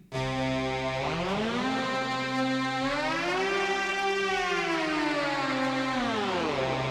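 A loud, sustained synthesizer lead tone gliding slowly up and then back down in pitch, rich in buzzy harmonics, playing alone.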